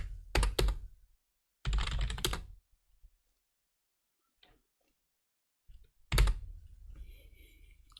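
Someone types a Linux terminal install command on a computer keyboard. Crisp key clicks come close in short bursts separated by quiet pauses, with one final clatter of keystrokes.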